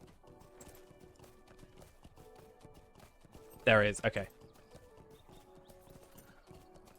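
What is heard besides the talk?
Tarnished Whistle starter horse hooves, LOTRO video game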